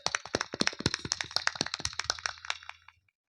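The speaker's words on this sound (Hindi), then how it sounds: "जोरदार तालियां बजाकर" Audience at a Ramlila performance breaks into brisk applause, a burst of sharp, close claps that holds for a few seconds then tapers off and stops.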